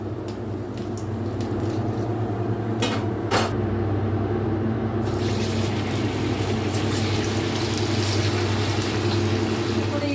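Rice pakoras made from leftover cooked rice and a little fine semolina, frying in hot oil with a steady, loud bubbling sizzle throughout and a few clinks, while a voice speaks.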